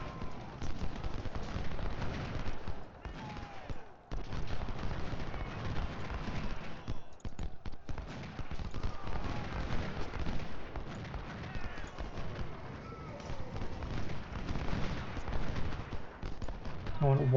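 Rifle volleys and artillery fire from a Union river crossing battle in Ultimate General: Civil War crackle in dense, overlapping bursts and booms, a continuous distant din of battle throughout.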